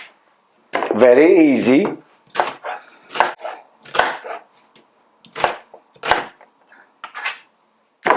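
Knife roughly chopping onion for butternut squash soup, a run of sharp separate cuts on a board spaced about a second apart, with a person talking briefly near the start.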